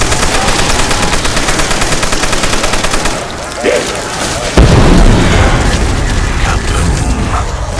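A loud explosion bursts out midway through a busy stretch of gunfire and rumbling in Call of Duty: World at War Zombies on the Der Riese map, then a heavy roar lingers afterward.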